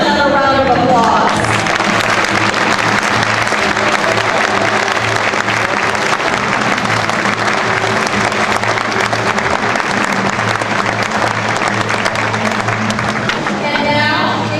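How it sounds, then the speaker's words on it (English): Sustained audience applause at the Kennedy Space Center fills the hall loudly and steadily for the whole stretch, dense clapping from a large crowd with no speech over it. "Let's give them another round of applause."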